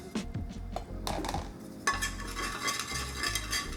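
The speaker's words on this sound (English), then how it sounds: "Scrape it, right? Scrape all that fond off." A utensil scrapes browned fond off a pan while liquid deglazes it for pumpkin risotto, giving repeated close scraping and clinking over a soft steady sizzle.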